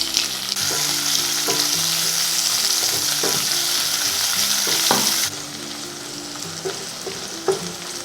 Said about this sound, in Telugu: ఉల్లిపాయలు బాగా వేగిన తర్వాత